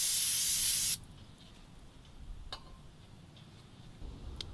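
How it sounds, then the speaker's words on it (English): Brake cleaner sprayed onto a front brake disc of a 2014 Ram 3500 HD, one loud, steady hiss lasting about a second before cutting off, followed by quiet room noise with a few faint ticks. "Maybe hit this with a little bit of brake cleaner, maybe a little Scotch-Brite pad."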